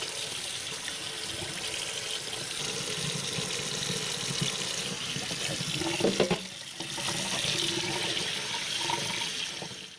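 A part from an old 2007 HP computer being rinsed under a running kitchen sink tap, with a steady close rush of water lasting throughout and a brief dip and splash partway through.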